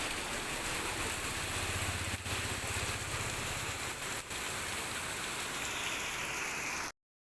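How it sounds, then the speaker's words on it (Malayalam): Heavy rain falls in a dense, steady downpour, drumming on surfaces up close with a low rumble underneath, continuous until an abrupt cutoff. "നമുക്ക് വണ്ടി ഓടിക്കാൻ പറ്റാത്ത രീതിയിലുള്ള മഴയായിരുന്നു"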